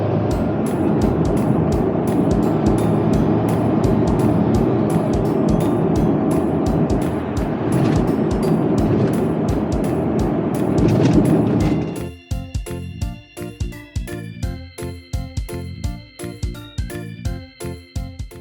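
Inside a kei camper van on a bypass with the air conditioning running, a steady loud engine and road drone holds for about twelve seconds, then gives way to music.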